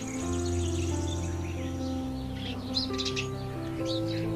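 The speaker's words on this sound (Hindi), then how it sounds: "सुबह सुबह का टाइम है तो जो पक्षियों की चहचहाट है उसकी भी लगातार आवाज़ें हमारी कान में आ रही" Birds chirping in the early morning in a mountain village, several calls and tweets scattered across the clip over a low steady hum, moderately distant.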